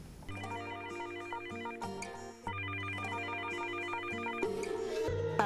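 A telephone rings with a bright electronic tone in a steady repeating pattern. It is heard alone at moderate volume, with no talking over it.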